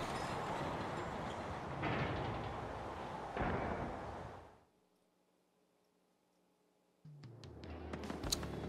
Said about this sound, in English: Back to the train.